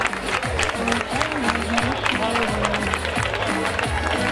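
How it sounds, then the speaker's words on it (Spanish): An audience applauds at the opening speech of a village fair in Mezquitilla, producing a dense, continuous patter of clapping beneath an announcer's amplified voice. "Un aplauso para ella,"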